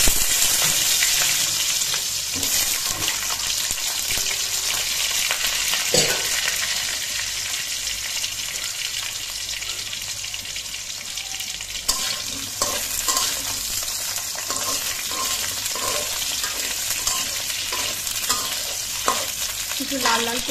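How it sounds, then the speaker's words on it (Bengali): Thinly sliced potatoes with turmeric and salt fry in hot oil, giving a steady, close sizzle throughout with occasional stirring scrapes and pops; no one speaks. "তারপর হচ্ছে এটার মধ্যে একটু হলুদ আর লবণ মিশিয়ে আমি আলুগুলোকে ভেজে নেব"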